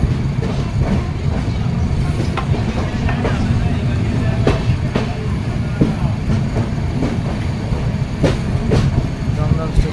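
Train pulling out of Dum Dum station in Kolkata toward the Dankuni line on a rainy day, heard from inside as a steady loud rumble with wheel clicks and occasional sharp clacks, with some voices faintly present.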